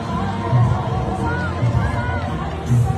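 Large crowd at a political rally for Duterte, a dense roar of shouting, chanting and cheering filling the space, loud and continuous.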